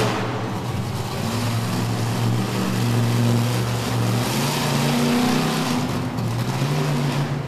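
Monster truck Snake Fight, driven by Rick Long, roaring through a freestyle run at a Highland Heights, Kentucky show: a loud, steady engine drone with surging revs and a rough, wide rumble that continues throughout.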